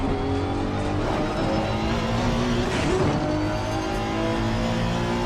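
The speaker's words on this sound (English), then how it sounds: "There's nothing quite as immersive as your car doing the whole rev thing when you're going over bumps." A race car engine in the video game Assetto Corsa Competizione revs and whines at length, its pitch rising and dipping with a brief tire-scrub burst midway.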